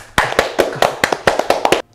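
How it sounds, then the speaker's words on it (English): Sharp, isolated hand claps, about ten in a loose irregular rhythm, loud and close to the microphone, with brief silence after the final clap. "Clap!"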